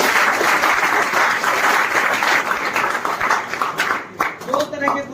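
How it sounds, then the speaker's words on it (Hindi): Large audience giving a loud, sustained round of clapping and applause at a nursing assistant selection ceremony with a motivational singer, steady for several seconds then thinning out with a few scattered claps near the end. "इम्पैक्ट एकेडमी के लिए भी जोरदार तालियां"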